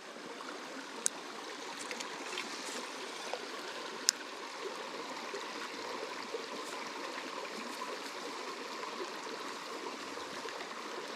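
Steady broadband wash of running water from a small creek, continuous and fairly soft, with a few faint clicks and ticks on top and no voices.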